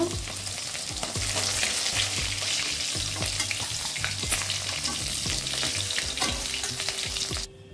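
Pieces of rohu fish fry in hot oil with a loud, dense, crackling sizzle that runs continuously, with scattered pops and spatters throughout before cutting off abruptly at the end.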